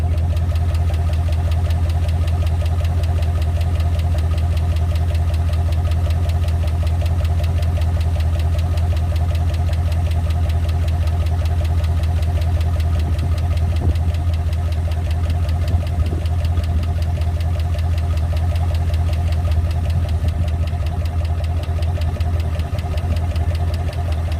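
A warmed-up Ford Pinto engine, treated with Pro Lube oil treatment, idles at 800 RPM: a loud, steady low drone with a faint regular ticking runs unbroken throughout, with no voices.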